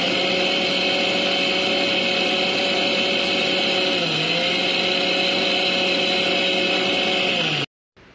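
A blender whips egg mayonnaise with a loud, steady motor whir that runs unbroken for about seven and a half seconds, then cuts off abruptly.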